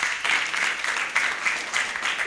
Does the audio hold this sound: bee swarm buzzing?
no